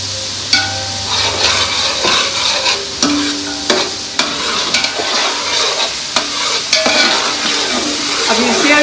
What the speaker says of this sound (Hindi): अब इसे भी अच्छी तरह हमने फ्राई करना है।